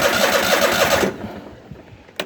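A Kohler Command small engine swapped in for an Intek motor catches and runs loudly close by for about a second, then cuts out to a low sputter and a final click.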